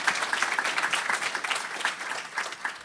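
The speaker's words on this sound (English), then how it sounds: "Donna, Brianne, and Maddie, let's give them a round of applause." Round of applause for event organizers at a congressional forum breakfast, a moderate crowd clapping steadily, slightly distant and sustained throughout.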